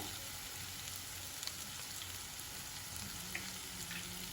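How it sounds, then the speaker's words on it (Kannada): Capsicum fries with gram flour in a pan, making a faint, steady, even sizzle with occasional small pops throughout. "ಈಗ ಒಂದೆರಡು ನಿಮಿಷ ಇದನ್ನು ಚೆನ್ನಾಗಿ ಫ್ರೈ ಮಾಡ್ಕೊಳ್ಬೇಕು"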